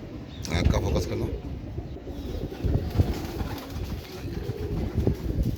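Imam Deen breed pigeons coo in low, repeated throaty pulses close by, with some faint chirps and someone talking over them.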